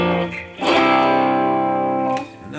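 A flamenco rasgueado strum on guitar, starting with the pinky, sounds as a quick rolled attack and then a ringing chord that decays, with a short strum first and a faint scrape near the end.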